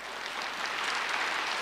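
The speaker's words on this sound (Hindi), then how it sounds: "ताली नहीं बजाते?" An indoor audience claps together for a short stretch at a spiritual gathering, a steady, soft patter of many hands heard fairly faintly and without pause.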